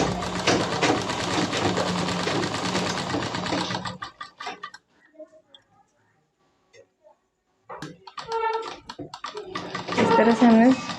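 Fast, steady whirr of a sewing machine stitching a frock along its buckram edge, stopping after about four seconds, then faint handling noises and talk, before the stitching starts up again near the end.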